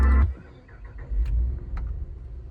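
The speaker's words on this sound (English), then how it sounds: "But we turn the car on." A Grand Wagoneer SUV engine starts with a sharp crank and catches, then settles into a low, steady idle rumble heard close from inside the vehicle.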